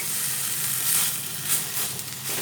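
Salted bottle gourd leaves fry in a pan with a loud, dense, continuous hiss of sizzling that swells slightly as the leaves are turned.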